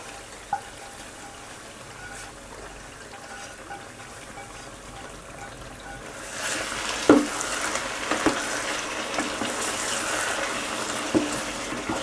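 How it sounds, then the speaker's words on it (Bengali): Hot bagar tempering is poured into frying meat for kala bhuna; after a quiet stretch, a sudden loud, dense sizzle erupts and keeps crackling steadily, close up. "তো আমি বাগারটা ঢেলে দিচ্ছি।"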